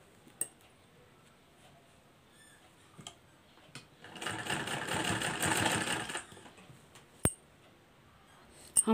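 Sewing machine running steadily for about two seconds while stitching silver samosa lace onto a round kurti neckline, a dense close whirring burst between quiet handling clicks.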